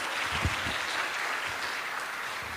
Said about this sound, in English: Let's give a round of applause for that wonderful class